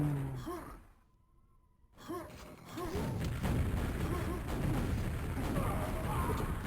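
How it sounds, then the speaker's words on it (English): Rocket launcher fire in a QuakeWorld 2on2 match, with short whooshing shots early, a brief quiet gap, then a dense rumble of blasts and in-game action that stays loud to the end. "Nice rocketing from Sup"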